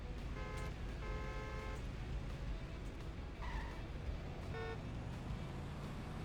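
Racing video game car engine and tire skids, a sustained buzzing drone with tonal bursts and squeals layered over a rough, continuous road rumble.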